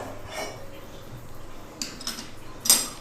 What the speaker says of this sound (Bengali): তো এবার আমি ভালো করে নেড়েচেড়ে দেব